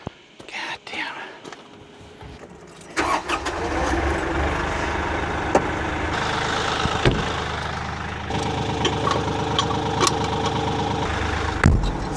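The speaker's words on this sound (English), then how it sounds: "Now I need to get back into the tractor, start it up again." A Kioti tractor engine turns over and catches around three seconds in, then settles into a steady, loud idle with a low rumble and occasional knocks and clunks. It runs on to the end with no talk over it.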